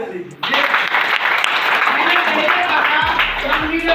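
Audience clapping along at a Hindi-language RCM business motivational seminar, a loud, dense burst of many hands that starts abruptly and keeps going steadily, with a low droning tone entering near the end.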